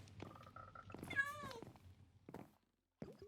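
A cat meows in a Minecraft-style survival video game, a short rising-and-falling call heard near and clear, with soft thuds and quiet game sounds around it.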